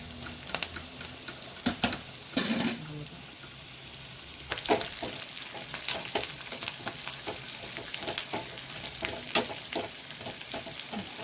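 Onions fry in the tempering for avarakkai sambar, a busy close sizzle with frequent stirring scrapes and clatters that rise in intensity partway through, continuous for the whole stretch with no voice.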